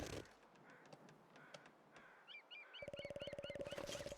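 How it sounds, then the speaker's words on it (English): Crow calls ring out over a quiet outdoor ambience in the video game The Long Dark, with a repeated cawing series and a steady buzzing drone joining near the end. "Crows down there."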